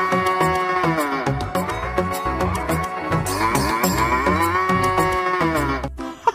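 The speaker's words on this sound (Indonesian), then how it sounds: "Lihat teman-teman, di sini ada hewan sapi." A cow moos repeatedly in Jurassic World Evolution 2, its loud drawn-out lowing calls layered and continuous over game music, with no talking.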